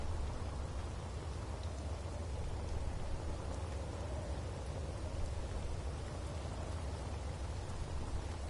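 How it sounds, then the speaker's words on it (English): Steady rain falling in the video game Space Engineers, an even, unbroken hiss of drops that holds at a constant level for the whole stretch with no voices. "every time it rains in the early morning here, it's nothing but fog"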